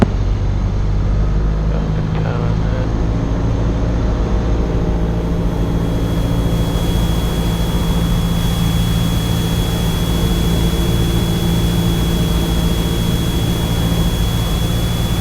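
Continuous broadband drone of a Cessna 172S light aircraft flying a touch and go on runway 10 left, a steady loud engine and airflow roar from inside the cabin with a faint high whine running throughout.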